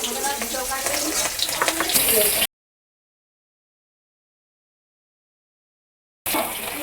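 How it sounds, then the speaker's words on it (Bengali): Mango pieces frying in oil left from frying fish, a hissing, bubbly sizzle close by for a couple of seconds, then dead silence before the sizzle returns briefly. "এই মাছের তেলেতেই আমি আমগুলোকে আগে ভেজে নেব"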